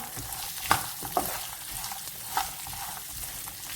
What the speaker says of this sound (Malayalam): ഇനി നമുക്ക് സ്പ്ലിറ്റ് ചെയ്ത കടലയും ഈ കാഷ്യും കൂടി ഇട്ട് കൊടുക്കാം. നന്നായിട്ട് ഇളക്കി കൊടുക്കാം.